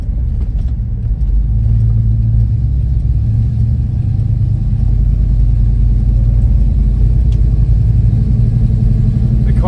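A steady, loud low engine rumble from inside a moving 1967 Dodge Coronet, droning continuously with no speech.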